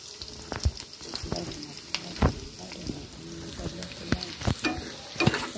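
Onions browning in a pan with garlic just added for kala bhuna, sizzling steadily under repeated close stirring scrapes and knocks of the utensil, while a voice talks now and then in the background.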